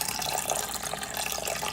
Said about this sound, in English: now we're going to add the water to our mixture